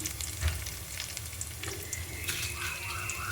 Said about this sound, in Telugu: నూనె వేడైంది ఫ్రెండ్స్ తాలింపు గింజలు వేసుకుందాం